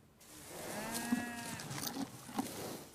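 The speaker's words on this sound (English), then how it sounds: "Yeah, the moo-moos." Cattle mooing in a small-town setting, one long drawn-out moo with a few shorter lowing calls after it, fairly close and clear over quiet background.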